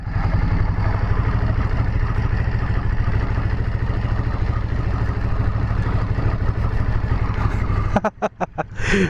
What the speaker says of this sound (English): Let's do our first test and see how easy it is to make some U-turns with it.